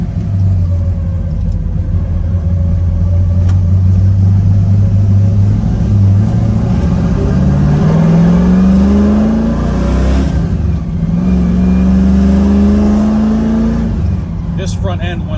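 A restored 1968 Chevrolet Camaro accelerating hard through the gears, its loud engine rumble climbing in pitch, dropping at each shift and climbing again, heard from inside with someone talking over it.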